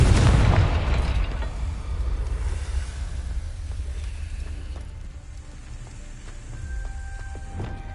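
A Confringo fire spell detonates in a Harry Potter video game: a loud boom at the start that rumbles and fades, followed by quieter crackling debris and a few faint clicks.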